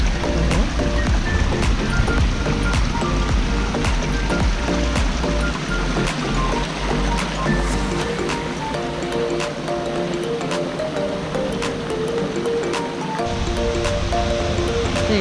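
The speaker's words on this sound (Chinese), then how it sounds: "一个小型的瀑布，" A small waterfall near a wooden footbridge in Sapporo, Japan rushes steadily and fairly loud, a continuous broad wash of flowing water with scattered faint clicks and tones over it.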